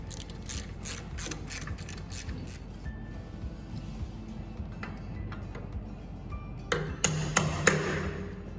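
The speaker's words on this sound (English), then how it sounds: "Tighten the supporting rod and lock the lock tabs." A ratchet tightens a supporting rod during maintenance on a Huaming CV tap-changer, giving quick runs of close metallic clicks over a low background hum, with a sharper burst of clicks and taps near the end.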